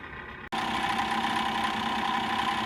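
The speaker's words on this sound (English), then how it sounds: "This is the sound inside the furnace. You're looking at the fan right now, Inducer fan." Inside a Bryant gas furnace, the inducer fan motor runs with a steady droning hum and rattling undertone, starting abruptly after a brief pause and continuing loud and close.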